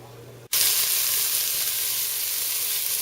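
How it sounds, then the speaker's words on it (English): Chopped onions, three of them, hit hot oil in a pan and break into a loud, steady sizzle that starts abruptly and holds without pause, close and unbroken. "Can you hear the sizzle?"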